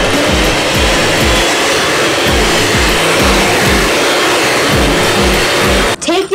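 Electric mixer beating shortcake batter of combined wet and dry ingredients, a loud, steady whirring drone with a rhythmic low churning pulse, cutting off abruptly at the end.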